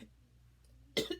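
A person gives a sudden cough of two close, harsh bursts after a near-silent pause.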